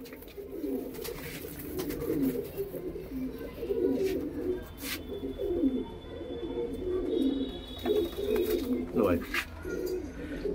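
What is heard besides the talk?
pigeons cooing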